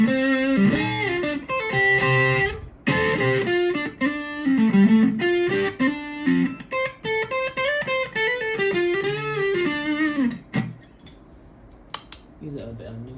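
An electric guitar plays through an Ibanez OD808 overdrive pedal set for mild distortion, picking sustained, gritty noodling phrases and chords with short gaps before ringing out near the end.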